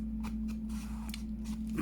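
Scissors snipping around a card-backed paper embellishment for a junk journal, a few short crisp cuts heard close up over a low steady hum.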